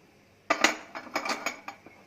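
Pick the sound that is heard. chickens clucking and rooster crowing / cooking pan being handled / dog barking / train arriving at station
cooking pan being handled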